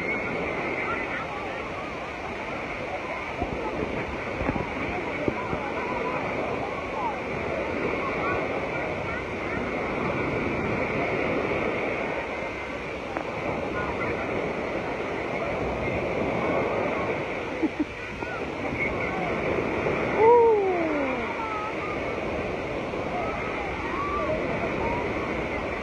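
Waves on a crowded afternoon beach in Central Vietnam, heard as a constant washing surf roar with broad crowd murmur mixed in, and voices talking nearby over the steady water noise.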